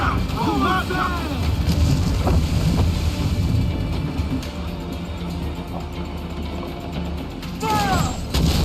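Ship cannons fire in Assassin's Creed IV: Black Flag, heavy booming blasts rolling over wind and sea noise at sea, with a few shots spaced through the stretch and shouting crew voices at moments.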